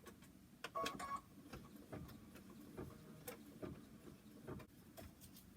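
A computerized embroidery machine stitches the final tack-down of a teddy bear's nose on hooped fabric, giving rapid, quiet ticking and whirring with small clicks throughout; close but faint, with no talk.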